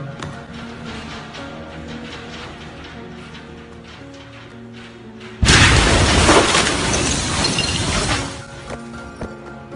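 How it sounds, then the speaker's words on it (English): A massive port explosion in Beirut, Lebanon, recorded from a marina about 11 km away: after several seconds of steady background noise, a sudden loud broadband blast rumbles and roars for roughly three seconds, then slowly fades. "The explosion was caught on camera 11 kilometers away in the Dabia Marina."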